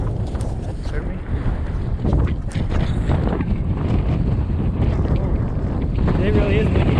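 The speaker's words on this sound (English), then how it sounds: "It really is windy." Strong wind buffeting a microphone during a bike ride, a constant loud roaring rush with gusty swells throughout and no voices.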